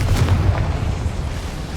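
A Confringo fire spell explosion in the video game Hogwarts Legacy lands as a loud, deep rumbling boom that rolls on for under two seconds with no voice over it.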